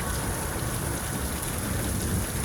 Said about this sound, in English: Oh, I love the smell of rain.